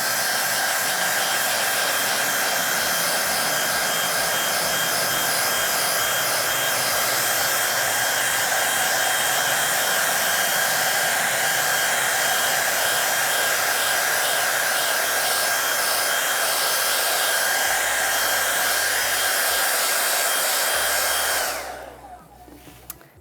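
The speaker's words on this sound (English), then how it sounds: "So this is now ready to be blow dried. We'll just give it a quick hair dry." A hair dryer blows steadily and loudly on a screen-printing stencil, a constant close whooshing roar lasting about twenty seconds before switching off, with faint handling bumps underneath.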